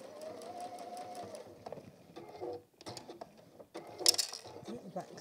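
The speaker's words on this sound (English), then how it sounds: "I will do a little back stitch there just to hold it" Sewing machine running a short back stitch to secure a seam on a fabric goose toy, a brief whirring burst followed by scattered clicks and handling taps, quiet and close.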